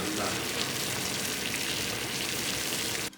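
A steady, dense bubbling and hissing of water at a rolling boil for tea, close and continuous, cutting off abruptly at the end.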